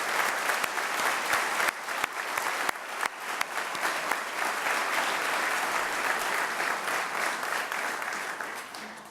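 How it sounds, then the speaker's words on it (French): A graduation ceremony crowd gives sustained, even applause with many hands clapping across the hall, close and steady for nine seconds, with a few sharper individual claps standing out. "je crois qu'on peut leur donner une bonne main d'applaudissements"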